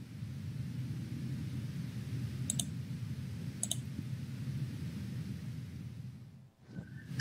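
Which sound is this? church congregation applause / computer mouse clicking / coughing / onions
computer mouse clicking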